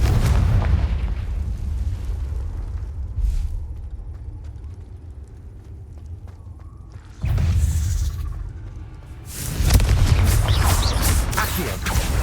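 The Confringo fire spell bursts in the action game Hogwarts Legacy amid other spellcasting, with heavy booming explosions that flare up loudly over a rumbling battle background before dying back down.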